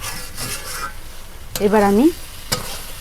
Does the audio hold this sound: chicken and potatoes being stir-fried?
yes